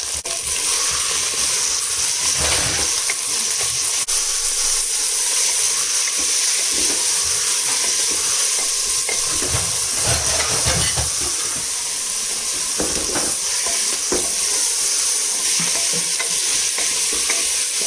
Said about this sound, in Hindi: 2-3 मिनट इसको भूनेंगे प्याज के साथ